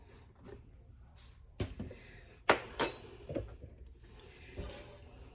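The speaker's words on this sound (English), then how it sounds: "I'm going to stir that up and get all the powder good and incorporated into the broth" A spoon in a crock pot, stirring powder into broth, gives a few scattered clinks and scrapes against the pot over a quiet background.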